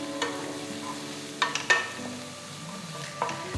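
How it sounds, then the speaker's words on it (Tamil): Chopped onion sautéing in a wide pan of coconut oil for squid masala, a soft steady sizzle broken by a few sharp scraping stirs of a spoon, close and alone without talk. "அடுத்து 1 வெங்காயம் பொடியாக நறுக்கினதை சேர்த்து 1 நிமிஷத்துக்கு வதக்குங்க."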